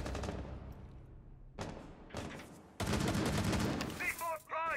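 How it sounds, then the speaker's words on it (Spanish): Gunfire in a video game firefight, loud bursts of shots coming in several bunches over a few seconds, building to a sustained heavy volley near the end, with brief voice-like sounds mixed in. "¿Desde dónde te están disparando?"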